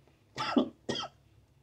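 Two harsh, close coughs about half a second apart, the first longer and rougher, in a quiet room.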